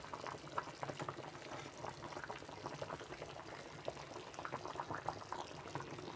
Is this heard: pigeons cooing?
no